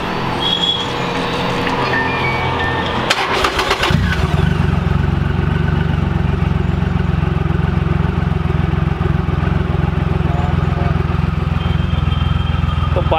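A 2300cc, 421 kg heavy motorcycle starts after a brief cranking burst, then settles into a loud, steady, deep engine rumble with light revving, close to the listener.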